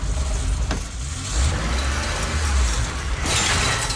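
A car engine in the video game Forbidden Siren 2 hums and drones steadily with a mechanical clunk partway through, loud and continuous, with no voices.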